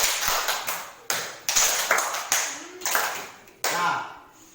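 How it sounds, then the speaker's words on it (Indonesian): Students in a classroom clap their hands in quick groups in response to a teacher's throws, a series of sharp, close claps separated by short pauses. "Kalau saya lempar 2 kali, Tepuk tangan 2 kali."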